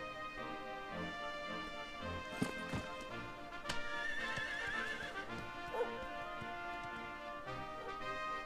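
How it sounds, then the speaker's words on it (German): A horse in the video game Dragon Quest XI whinnies clearly in the foreground, with the clip-clop of hooves and soft game music continuing around it. "Wie herrlich ein Pferd."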